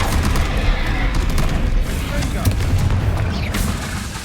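Confringo spell blasts in the video game Hogwarts Legacy land as a dense run of booming, crackling explosions over a continuous rumble, loud and close for the whole stretch.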